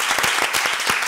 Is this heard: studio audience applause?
yes